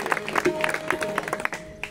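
Audience applause at a devotional bhajan performance: a short burst of scattered clapping, moderately loud and fairly close.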